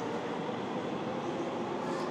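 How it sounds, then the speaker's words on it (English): Train pulling up at night by a pier in the rain, a steady broadband rumble and rush of rail noise that holds level throughout, moderately loud and continuous, with no clear clatter or squeal standing out. "I thought I heard a train pulling up here."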